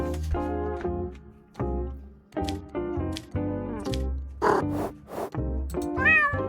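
A cat meows repeatedly, close and clear, several distinct calls in a row with short gaps, some rising and wavering at the end.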